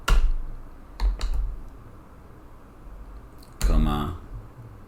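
Computer keyboard typing in short bursts: a couple of quick clicks early on, then a denser flurry of keystrokes later, with a person talking at other points.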